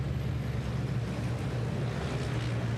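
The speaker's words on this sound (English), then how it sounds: "The turbochargers on these machines make fantastic sounds." Turbocharged 13-litre single-turbo six-cylinder diesel racing trucks at a circuit race drone steadily as a loud, continuous low engine roar with wind-like broadband noise, no voices over it.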